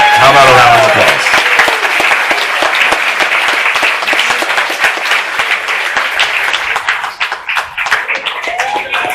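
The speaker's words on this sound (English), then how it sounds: "How about a round of applause?" Audience applause fills the room at the Hopatcong 2021 Senior of the Year award ceremony, steady dense clapping that carries on for about nine seconds after a brief voice at the start.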